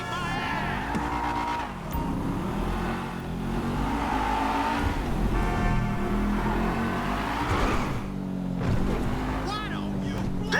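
Car in Grand Theft Auto gameplay cutting through a parking lot, engine droning steadily throughout with occasional revs and tire noise, layered under game music and someone talking over it.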